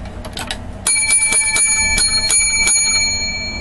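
Bicycle-style bell rung repeatedly as a show sound effect, about seven sharp bright rings in quick succession, loud and close with faint sounds underneath.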